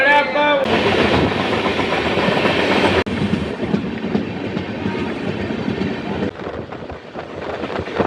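A busy Nashik railway station: a train's rolling, clattering rumble fills the scene, with voices and crowd noise mixed in, loud and steady throughout.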